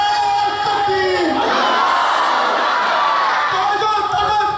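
Responding to a takbir call at a madrasa gathering, a crowd roars back a religious slogan in unison, rising from a single leading shout into a loud, sustained mass chant that stays strong to the end.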